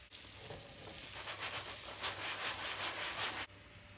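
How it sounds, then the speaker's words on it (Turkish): Steady sizzling of börek pastry frying in butter, a dense crackling hiss that carries on evenly for a few seconds before cutting off. "Tereyağı ile öbür tarafını da kızartacağız."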